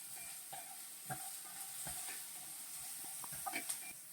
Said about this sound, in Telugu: ఆనియన్స్ బాగా ఫ్రై అయిపోయినాయండి